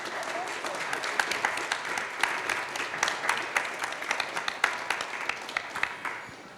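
An audience at an art conversation applauds guest artists Klaus Rinke and Annegret Soltau, sustained even clapping at moderate distance, no talk over it.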